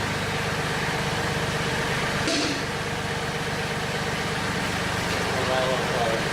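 A Mahindra 1526 tractor engine idles steadily while its backhoe boom is lowered, a loud, constant low rumble with a brief knock partway through and someone talking over it.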